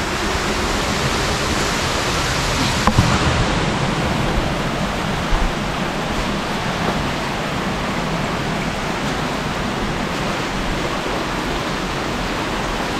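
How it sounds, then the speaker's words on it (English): Dense, even rush of water flowing into a cave along the Gibb River Road, echoing in the enclosed space, loud and unbroken throughout. "Cave water coming in over there."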